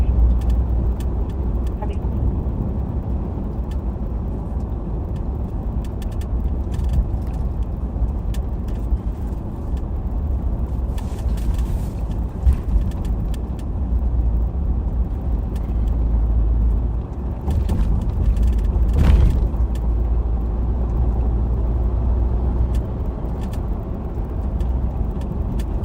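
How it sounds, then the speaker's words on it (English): Steady engine and road rumble inside a moving police patrol car, with faint intermittent rattles and clicks from somewhere in the cabin running through the drive. "Some rattling going on. I don't know. I can't figure out where that rattle's coming from."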